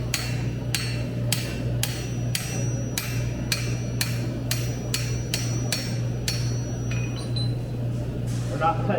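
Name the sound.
hammer striking a chisel with shearing blows on hot metal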